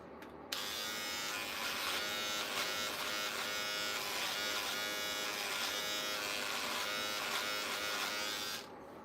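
An electric beard trimmer buzzes steadily and loudly, close up, for about eight seconds, its pitch wavering slightly as it binds in a thick beard, then cuts off.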